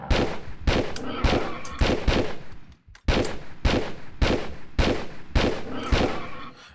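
Rapid bursts of weapon fire in the video game Tomb Raider III, sharp repeated shots in quick regular volleys with one short pause midway, loud and close with no talk.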